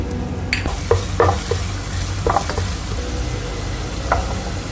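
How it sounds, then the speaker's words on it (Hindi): Ginger frying in oil in a pan for a chicken kofta curry, a steady soft sizzle with a few sharp stirring scrapes and clicks of a utensil against the pan. "हम सबसे पहले ऑयल डालेंगे, अदरक डाल देंगे हम इसमें"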